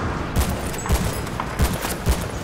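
Rapid bursts of gunfire ring out in the video game Battlefield Bad Company 2, several loud cracks recurring at a steady rhythm over a constant background rumble of combat.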